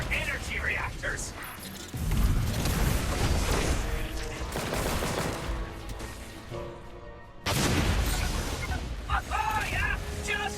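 Heavy explosions and crashing blasts fill a sci-fi shooter battle in Destiny: Rising as enemy energy reactors are blown up with scorch cannons, a dense, loud, continuous barrage with a fresh surge of impacts partway through.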